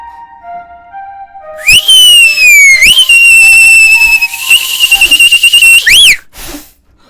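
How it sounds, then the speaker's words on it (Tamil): A person whistling loudly, a shrill sustained high-pitched whistle with a few pitch swoops, preceded by quieter tones and ending with a short breathy sound. "விசில் அடிக்க கற்றுக்கிட்டு வெளியே வா"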